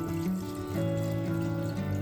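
Water is poured into a pot of rice and chicken for biryani, giving a steady close pouring wash over a background of sustained tonal sound.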